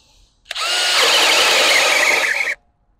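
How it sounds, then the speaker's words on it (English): A DeWalt cordless drill bores a hole in untreated 6x2 timber at speed 2, one loud, close, steady whine lasting about two seconds that starts and stops abruptly, with no talking. "So let's drill a couple of holes and see how we perform on that one."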